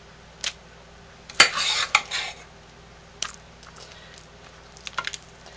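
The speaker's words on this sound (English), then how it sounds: "I'm just going to fill it by sort of plopping the soap into the container" Thick homemade soap mixture plopped from a utensil into a cooking-dish mold, with a short scraping squish and a few scattered taps and clinks, close and quiet against a low hum.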